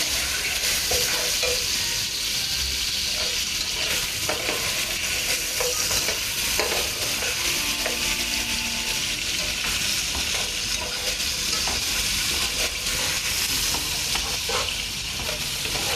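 Mutton pieces fry loudly in hot oil in a pot for pulao, a dense continuous sizzle with scattered stirring scrapes running steadily throughout, close and without speech.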